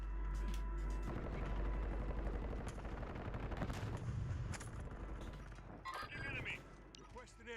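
Close air support airstrike in the video game Call of Duty Warzone, with rapid gunfire, heavy blasts and booming impacts under radio-style game voices.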